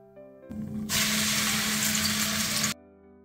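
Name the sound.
onion frying in hot oil with bay leaves and cinnamon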